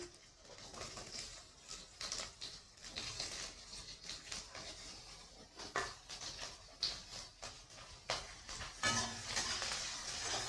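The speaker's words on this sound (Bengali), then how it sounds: "পেঁয়াজ কলিটা আমি ভালো করে একটু হালকা সাঁতরে নেবো তেলের মধ্যে" Spring onion stalks frying lightly in oil for Bhola fish tel jhal, a quiet sizzle with faint stirring scrapes, and a bird cooing softly in the background.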